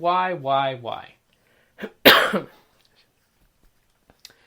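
A sharp, throaty cough bursts out once after a stretch of speech, followed by quiet.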